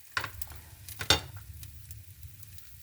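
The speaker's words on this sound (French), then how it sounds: "Maintenant, on va laisser cuire tranquillement." Food sizzles gently in a pan after seeds are added, a soft steady crackle with a couple of brief stirring scrapes and clinks near the start, quiet and close.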